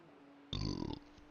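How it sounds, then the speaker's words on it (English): A single burp lasting about half a second, loud and close against a quiet background, heard during a BMW M4 GT3 race session at the Nurburgring 24. "It's just a burp. Don't worry about it."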